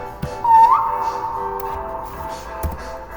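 A short whistle in the video game 3008, a single clear rising-then-falling tone lasting about half a second, followed by a few soft taps.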